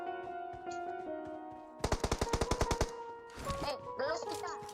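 Rapid pistol gunfire in PUBG on the Erangel map, a burst of about a dozen sharp evenly spaced shots, loud and close, with players talking before and after.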